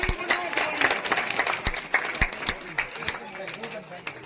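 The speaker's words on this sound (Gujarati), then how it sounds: "સૌને તાળીઓ બજાવતી રહેવાની છે।" An audience claps at a community honouring event on a stage, irregular applause with sharp individual claps rising and thinning over a murmur of voices.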